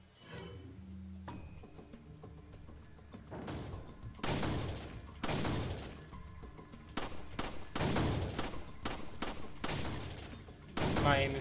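Pistol shots in Resident Evil 4, a series of distinct single gunshots spaced irregularly, each a sharp crack with a short decaying boom, fairly close against a quiet game background.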